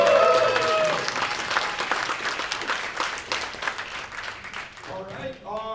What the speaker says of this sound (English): a round of applause for our amazing singers